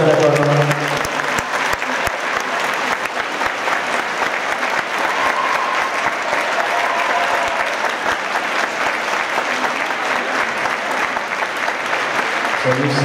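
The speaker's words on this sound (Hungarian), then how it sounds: "Tapsot kérünk a kiváló zenekarnak!" Sustained audience applause for a youth wind band at a university anniversary gala in Debrecen, a dense, steady wash of many hands clapping throughout, loud and continuous with no break.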